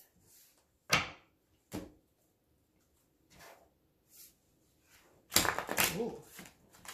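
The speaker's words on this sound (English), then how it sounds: "3 shuffles, and we'll pull your theme" Several brief papery riffles of tarot cards being shuffled, spaced apart, then a longer, louder shuffle near the end, with a short voice exclamation.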